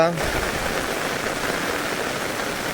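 Heavy rain pours down on a kitchen garden in Devgad, Konkan, during an unseasonal May downpour, a dense, steady hiss of water that stays unbroken throughout.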